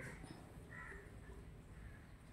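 A crow caws a few times, faint and some distance away, over a low steady background hum.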